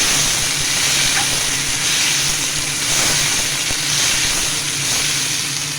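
Chopped tomato pieces sizzle in a curry pan for boiled egg curry, a loud, steady frying hiss with faint stirring scrapes and no talk.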